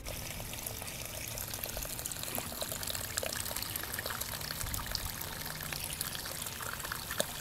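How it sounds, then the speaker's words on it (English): River water in a video game pours and trickles in a continuous, moderately quiet wash, with small splashy bursts scattered through it and no voices over it. "I think I hear the river."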